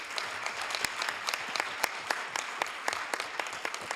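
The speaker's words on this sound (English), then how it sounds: "let's give Echo Housing a big round of applause." Audience at a city council meeting applauds, a moderate room full of people clapping with distinct individual claps standing out over a steady patter, fairly close.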